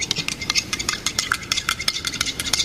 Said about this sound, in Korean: 그리고 잘 저어주면 됩니다.